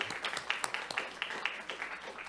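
Brief, faint scattered clapping from a small group at a county board of supervisors meeting, irregular claps fading over a couple of seconds.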